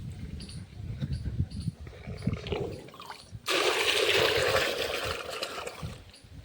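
Water gushing and splashing steadily into a wheat field for irrigation, starting abruptly partway through after quieter trickling and low rumbling noise.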